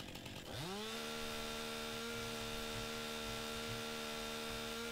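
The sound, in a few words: chainsaw cutting in video game Farming Simulator 19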